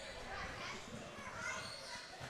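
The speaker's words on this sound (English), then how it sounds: "And you can hear the kids going crazy in the background." Youth soccer teams cheer and shriek from seats right behind the goal at an indoor arena soccer game, a steady, dense crowd din with children's voices rising throughout.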